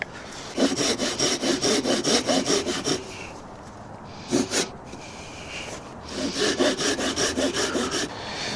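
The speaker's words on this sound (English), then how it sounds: "I'm going to use the saw, just because it's a brand new saw." Hand saw cutting through wood while making a sawhorse, in two bursts of steady rhythmic back-and-forth strokes, close and clear, separated by a short pause with one brief stroke.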